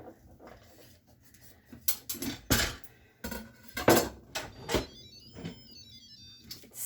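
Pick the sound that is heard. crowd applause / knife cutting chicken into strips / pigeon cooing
knife cutting chicken into strips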